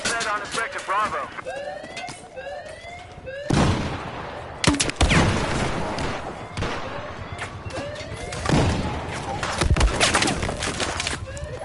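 Rattling machine gun fire in a video game erupts in repeated loud bursts amid chaotic battle noise, with radio-style voices talking over the action.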